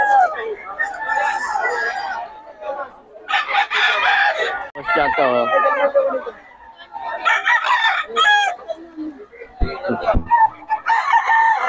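Chickens and roosters at a poultry market, with repeated crowing and clucking close by, mixed with people talking and haggling over prices.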